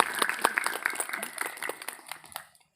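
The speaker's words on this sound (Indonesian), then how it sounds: "Boleh tepuk tangan untuk kita semuanya, Bapak dan Ibu." Scattered applause from an audience at an Indonesian community gathering, a crowd of claps fading out over a couple of seconds and ending in quiet.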